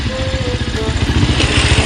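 A motorcycle engine rumbles close and loud on a rough riverbed track, its rapid, pulsing beat holding steady throughout with no talk.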